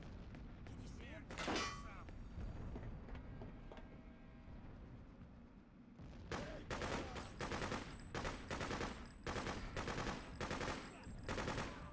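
Bursts of machine gun fire in the video game Freedom Fighters, rapid automatic volleys dominating the second half after scattered shots earlier, with a speaking voice over the gameplay.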